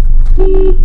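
A single short car horn toot sounds over a loud, rumbling engine, lasting about a third of a second, during a driving lesson at a blind turn.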